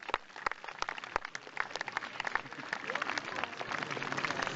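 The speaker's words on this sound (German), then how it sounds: "da haben die beiden sich oder alle drei einen riesen Applaus verdient" An outdoor audience at a bird of prey show in Wildpark Poing claps, starting as scattered individual claps and building into denser, continuous applause.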